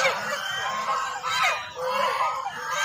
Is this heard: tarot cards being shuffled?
no